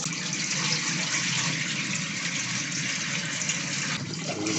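Running tap water pours steadily over rice being washed in a kitchen for Jamaican curry goat, a continuous close rushing splash with no talk over it.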